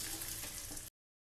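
Curry leaves sizzle in hot oil for a chutney tempering, added after mustard seeds and red chillies, giving a close, steady crackle for almost a second before cutting to silence.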